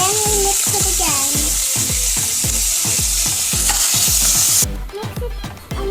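Sliced pork sizzles and fries in a pan while being stirred, a steady crackling hiss broken by a regular run of utensil scrapes and knocks, close and loud, with the frying noise dropping away near the end.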